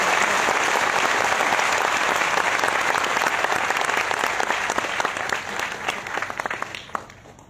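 Loud sustained applause from a large audience at a business training seminar, steady and dense throughout before thinning slightly toward the end.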